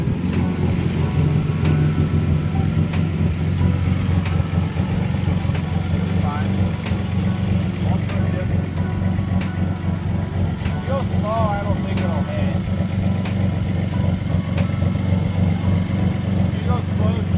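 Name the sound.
VR6-swapped MK1 Rabbit car driving off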